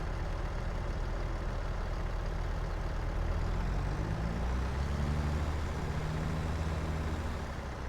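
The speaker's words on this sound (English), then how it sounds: "Put this up so I can move the tractor" Tractor engine rumbling steadily on a farm field during liming work, a loud, close, continuous low drone as the machine pulls away.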